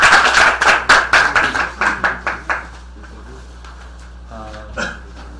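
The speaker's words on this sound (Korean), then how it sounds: "박수로 맞이해 주세요." An audience clapping to welcome a lecturer on acupressure for headaches at a seminar: a short burst of rhythmic clapping, several claps in a steady beat that fade out after about two and a half seconds, then a quiet room with a brief voice.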